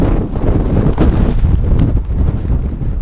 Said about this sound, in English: I've got to try and find somewhere to camp out of this wind.